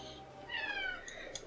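A house cat gives a short, fairly close meow, with a rising then falling pitch, over a faint background hum.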